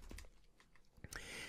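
Someone typing a sentence on a computer keyboard, with scattered close key clicks in an irregular rhythm and a louder burst of clatter near the end.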